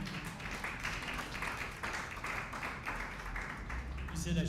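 Audience applause at a Ghana launch event, a steady patter of many hands clapping at moderate distance, continuing evenly for several seconds.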